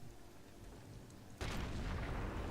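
Sniper rifle shot in Sniper Elite landing a headshot: quiet ambience, then a sudden loud crack that rolls into a sustained booming, rumbling tail.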